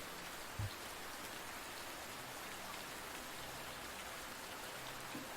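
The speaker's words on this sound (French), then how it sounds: "Suivez à présent une nouvelle goutte de pluie qui tombe cette fois au milieu d'une forêt" Rain falls steadily in a forest as a soft, even hiss, with one brief closer drop standing out early on and no voices.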